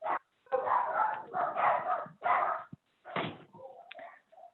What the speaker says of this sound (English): my dogs are gonna go crazy